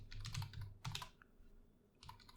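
Quick bursts of keystrokes on a computer keyboard as a Laravel command is typed, close and quiet with short pauses between flurries.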